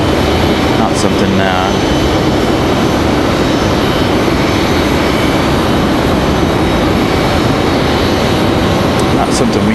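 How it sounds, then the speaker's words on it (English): An American Airlines Boeing 737 MAX 8 jet at Raleigh-Durham International Airport, heard as a steady, loud broadband roar that holds evenly for the full stretch. "Yes, you heard that correct. American Airlines and a MAX 8."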